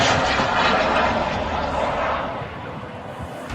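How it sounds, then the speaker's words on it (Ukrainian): Attack drone flying overhead during a strike on energy infrastructure, heard as a loud, steady engine drone that fades slightly toward the end, with a faint voice in the background. "От летить дрон."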